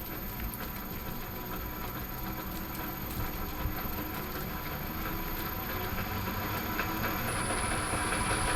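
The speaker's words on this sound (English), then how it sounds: "Why is it being noisy? Because I've got all those gears running." A metal lathe runs with all its gears engaged, giving a loud, steady mechanical whirr and clatter with a constant high whine that continues throughout.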